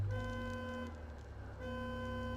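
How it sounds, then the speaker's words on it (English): Car alarm sounding outside, heard faintly through walls as a steady electronic tone that stops briefly and then resumes, distant and low in level. "Somebody's car alarm went off."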